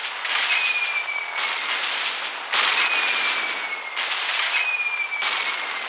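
Anti-aircraft gun firing in the naval combat game Gunship Battle, bursts of rapid rattling fire in repeated clusters with a thin descending whistle through some, loud and close with no talking.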